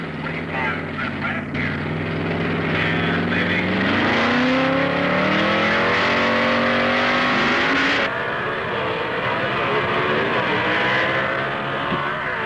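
A 1955 Chevy C-modified production drag racing car accelerates down the strip at a 1970 Indy Nationals event, its engine note rising in pitch through loud, continuous revving while an announcer talks over it.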